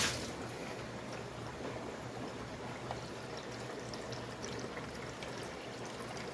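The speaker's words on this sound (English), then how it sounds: "I'm just going to drain all the water into this container." Water from a brine shrimp hatchery being drained and poured into a container, a steady trickling pour running throughout at moderate level with no talk.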